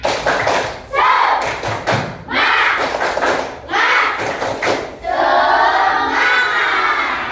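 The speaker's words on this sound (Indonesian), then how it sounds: "kita tepuk semangat dulu ya" Schoolchildren in a classroom perform a rhythmic clapping chant, loud bursts of sharp claps and shouted syllables in a repeating pattern, with the group voices swelling together near the end.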